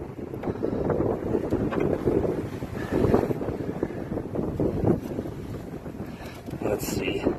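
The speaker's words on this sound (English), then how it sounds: "Man, it's getting windy out here." Gusty wind buffets the microphone outdoors beside a project snowmobile with its hood propped open, a steady low roar rising and falling throughout, with brief higher sounds near the end.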